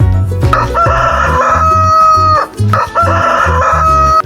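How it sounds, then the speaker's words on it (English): A rooster crows twice in a row, loud and near, each call a long drawn-out cock-a-doodle-doo with clucking between them. "Rooster."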